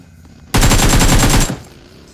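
A burst of automatic gunfire from a weapon in the BGMI mobile battle royale game, a loud, rapid string of shots lasting about a second that starts abruptly and then cuts off, with no talk over it.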